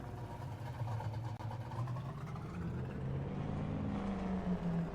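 A car in Farming Simulator 22 drives up onto a trailer, its steady mid-pitched engine droning continuously at moderate level, with no talk.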